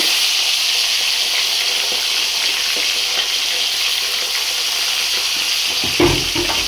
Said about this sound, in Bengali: এবার মাথাগুলো আস্তে আস্তে তেলের মধ্যে দিয়ে মাছটাও একটু তেলের মধ্যে দিয়ে ভেজে নেব।